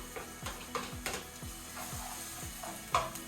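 Onion and garlic sizzle in hot frying oil while being stirred, a soft steady crackle punctuated by rhythmic scraping strokes of a utensil against the pan, fairly quiet and close.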